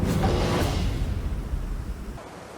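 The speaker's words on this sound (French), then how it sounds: "La cascade de Grand Galet, nichée au pied du volcan, avec ses résurgences d'eau, attire le regard." Steady broadband rush of the Cascade de Grand Galet waterfall on Réunion, at the foot of the volcano, a dense continuous roar that fades slightly toward the end, with no voices.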